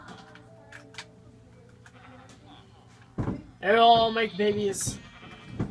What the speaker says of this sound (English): Might as well get it to these sheep.